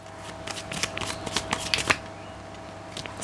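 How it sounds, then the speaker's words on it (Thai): Tarot cards are shuffled by hand in quick riffling bursts, close and clear. A faint steady hum runs underneath. "ขอไพ่เพิ่มนะคะ"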